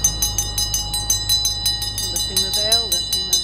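A hand bell rung during a ritual on a hotel rooftop gives rapid, regular metallic ringing strokes, loud and close, while a voice speaks over it.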